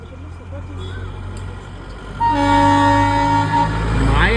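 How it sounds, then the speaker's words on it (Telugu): A toy train's horn gives a loud, sustained toot close by at a station platform, rising over ambient station noise and a moving train. "ఇదిగో ఇదే టాయ్ ట్రైన్"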